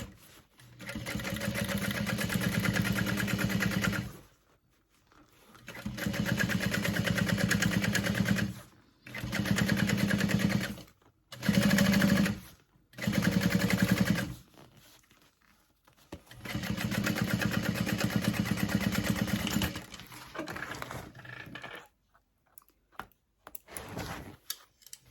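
A sewing machine top-stitches through exterior fabric for a tote bag, running in several bursts: long steady runs, then short stop-start spurts, then a pause before a final run and scattered clicks.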